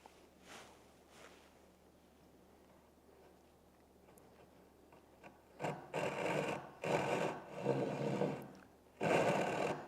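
A Japanese ryoba pull saw cuts through wood in a series of rasping strokes: a few faint early strokes, then four loud, distinct pulls in quick succession, each a rough scraping burst.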